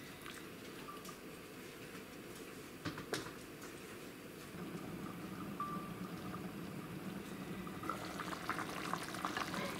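Zucchini and elbow-pasta soup with ground beef simmering in a pot, a steady low bubbling hiss that grows slightly fuller toward the end, with a few faint clicks and no talking.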